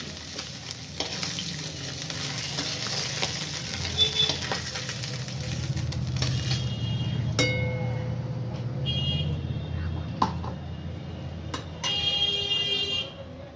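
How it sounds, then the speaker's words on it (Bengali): Fish frying lightly in a little oil in a pan, a continuous soft sizzle with occasional stirring and scraping clinks, close and steady. "এই মাছগুলি তো আমরা দিয়ে টক করবো, এই জন্য খুব কড়া করে ভাজবো না, হালকা করে ভেজে নিচ্ছি"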